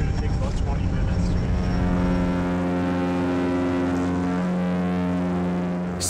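An Island Airways airplane flies from Charlevoix, Michigan, to Beaver Island, its propeller engine drone loud and steady from inside the cabin, with a voice speaking over it near the start.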